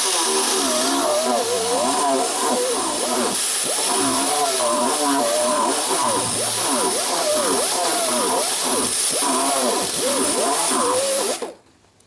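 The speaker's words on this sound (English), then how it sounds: "Okay, I'm gonna put the flapper wheel on it, see if I can smoothen this out more." A worn flap wheel on a power tool grinds rust out of a bushing hole on a 1968 Nova, a steady, loud whir with wavering pitch running for about eleven seconds before cutting off abruptly.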